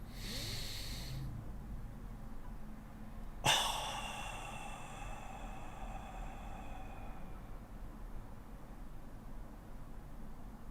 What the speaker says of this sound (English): and then breathe in